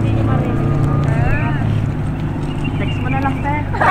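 A boat engine drones loudly and steadily up close off Dingalan, Aurora, with wind buffeting the microphone and people talking over the noise.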